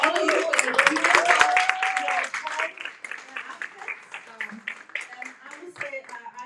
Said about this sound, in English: I want to give yourself a round of applause